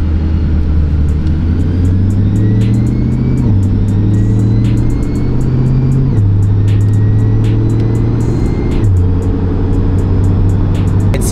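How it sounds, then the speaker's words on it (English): A C8 Corvette on stock Michelin PS4S tires cruises in tour mode with a steady, subdued engine drone, a few gear shifts stepping the pitch, and tire roar underneath; no talking. "I just put it in tour now and you can see how quiet it's gotten already."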